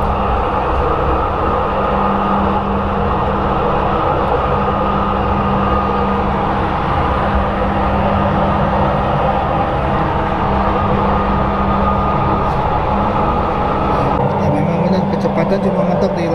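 A driverless Jakarta LRT train runs along steadily, a continuous rolling rumble with a sustained low motor hum, heard from inside the carriage throughout, with a slight shift near the end.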